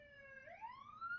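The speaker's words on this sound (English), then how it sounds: "And sorry about the sirens" An emergency vehicle siren sounds faintly in the distance outdoors, a single wailing tone that holds steady and then sweeps upward, heard alone and quiet.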